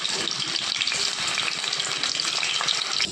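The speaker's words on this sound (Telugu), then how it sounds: "ఆయిల్లో ముందు ఎండి చేప అయితే ఫ్రై చేసి తీసుకోవాలి." Dry fish frying in hot oil for a tomato curry, a steady dense sizzle and crackle, close and loud throughout with no talking.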